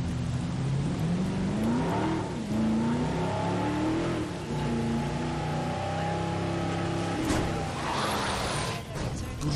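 A vehicle driven through rain in Jurassic World Evolution gives a loud engine drone that rises and falls with revving and changing pitch, steady throughout with a brief whoosh near the end.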